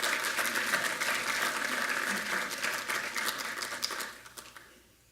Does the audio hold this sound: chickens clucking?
no